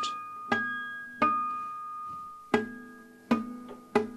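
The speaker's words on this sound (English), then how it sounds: "natural harmonics, pluck down closer to the bridge, about halfway between the sound hole and the bridge" Acoustic guitar natural harmonics plucked near the bridge, about halfway between sound hole and bridge: five separate bell-like chiming notes, each with a sharp attack and a long ringing sustain, played alone and close.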